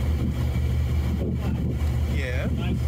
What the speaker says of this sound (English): I'm on a boat.